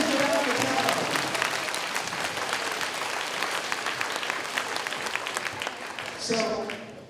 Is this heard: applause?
yes